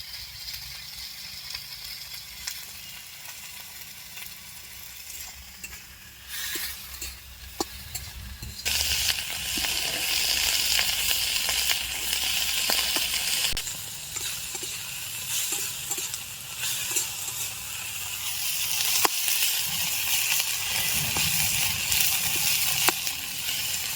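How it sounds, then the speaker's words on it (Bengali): Fresh coriander leaves fry in a salted pan in a traditional village kitchen, giving a steady, close, bright sizzle that swells louder partway through and keeps hissing with small crackles to the end. "আমার ধনে পাতা ভাজা হয়ে গেছে, আমি এবার ভেজে নেব"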